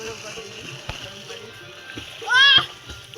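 A brief splash of water in a village pond during bathing, a short burst amid children's voices and background chatter.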